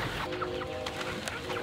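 Chickens on a 14-acre homestead cluck in short, scattered calls over a steady background hum, fairly close and brief.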